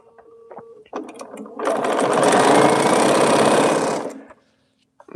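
A sewing machine stitches quilt rows in one steady, loud continuous run of about three seconds, preceded by a few light clicks and handling sounds.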